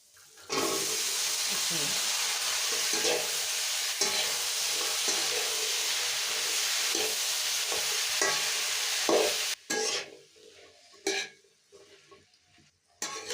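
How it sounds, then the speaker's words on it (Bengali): Onion fritters and chopped potato dropped into hot oil, with a loud, steady sizzle and repeated stirring scrapes that break into quieter, uneven clatters and pauses toward the end. "এখন আমি পেঁয়াজের ডেক আর আলু কুচি ছাড়ি দিই"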